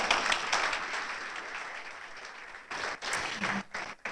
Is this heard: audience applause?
yes